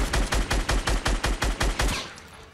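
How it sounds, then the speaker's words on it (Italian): Rapid automatic gunfire in Fortnite, fired without aiming: a loud, even burst of about a dozen close shots over two seconds, then stopping. "Devo sparare per forza senza mirare."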